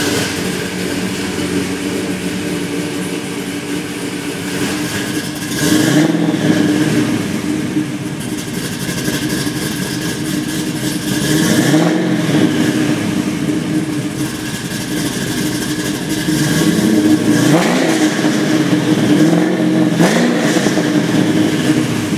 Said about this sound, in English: It idles perfectly, with a decidedly 60s cackle to the exhaust.